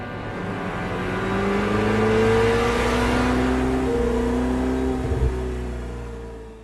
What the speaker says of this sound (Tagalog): Pinaandar na ni Doc Gio ang sasakyan.